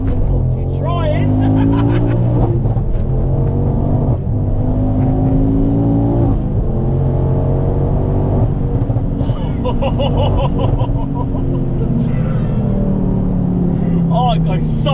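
A Ford Focus RS Mk2 accelerates hard in first gear, its engine note climbing loudly and steadily from inside the cabin with a gear change partway, while people talk over it.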